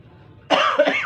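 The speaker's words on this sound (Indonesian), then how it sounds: "maaf saudara, saya batuk." A man preaching a sermon coughs once, a sharp, loud, close burst that follows a brief quiet pause, with a rough throat-clearing tail.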